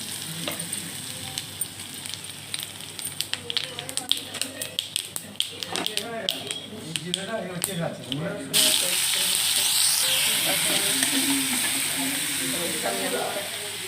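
Nigella seeds and ghetkol leaves frying in a pan, with fast crackling taps first, then a strong steady sizzle rising as the leaves go in, while someone talks over it.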